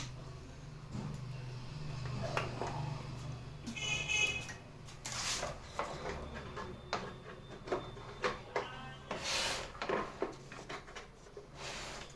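A Pantum M6518 printer is switched on and runs through its start-up: soft whirring and mechanical shuffling, then a series of regular clicks and clacks from the mechanism, close by with little talk.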